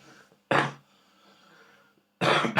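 Two sharp, close coughs about two seconds apart, with quiet breathing in between.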